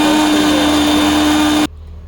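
A mixer grinder crushes green chutney ingredients, including cumin, sesame seeds and salt, with a loud, steady, high-pitched motor whine that runs continuously and then cuts off abruptly.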